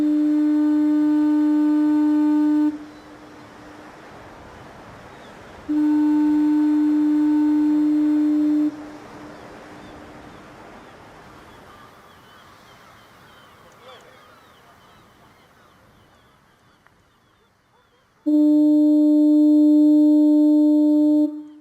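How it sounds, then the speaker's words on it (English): Lighthouse foghorns on Brier Island, Nova Scotia, three long, loud steady blasts separated by quieter gaps of distant ambience. "one can hear the West and Grand Passage light foghorns, each with its very own distinctive sound"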